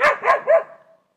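Dogs barking on a residential street: three quick, close barks and yips in a row, then a fading whine, with no talking.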